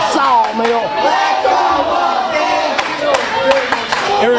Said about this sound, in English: And you hear the crowd getting behind Wolfie D, Jason James, right here at the sawmill.